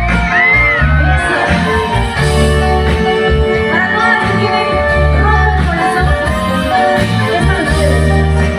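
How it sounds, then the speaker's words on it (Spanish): A large concert crowd shouts and cheers loudly and continuously at a live show, a dense roar of many voices with whoops and yells rising above it, music underneath throughout. "ustedes tienen que gritar bien fuerte"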